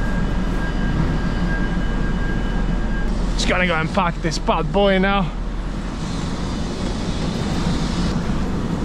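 A Scania V8 truck engine drones steadily in the cab while driving, a continuous low rumble throughout with someone talking briefly over it midway.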